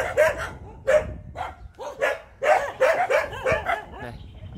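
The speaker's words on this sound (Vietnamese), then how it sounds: "Nhà nuôi nhiều chim, nhiều chó quá ta." Several dogs at a Vietnamese garden house bark in quick repeated bursts, loud and close, with a few yips in between.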